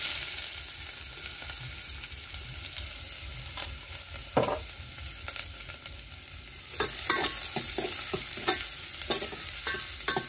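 Onion frying in oil with garlic in a pan, a steady sizzle with repeated spatula scrapes that grow busier and more frequent toward the end.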